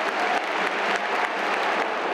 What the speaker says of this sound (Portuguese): a torcida aplaudiu o gol adversário.